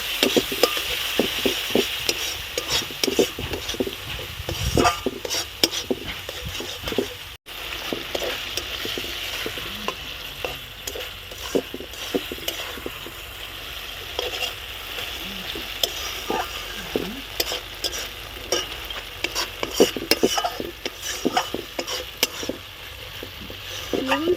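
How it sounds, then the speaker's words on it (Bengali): Masala paste with turmeric frying in a pan for a tengra fish curry, a continuous sizzle broken by frequent quick scraping and stirring strokes, close and fairly busy. "হলুদ পরিমাণ মতো ভালো করে মশলাটা কষিয়ে নেব"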